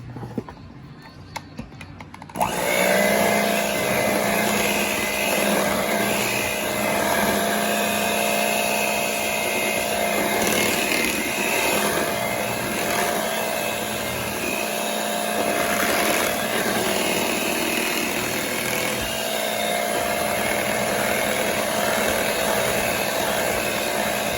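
Electric hand mixer beating brown sugar in a bowl for a holiday dinner, a steady loud whirring drone that starts abruptly after a short quiet moment and runs continuously with slight wavering in pitch.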